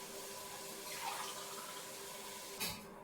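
Water poured into a pot of rice for cooking, a faint continuous trickle with a brief louder splash near the end, no talk.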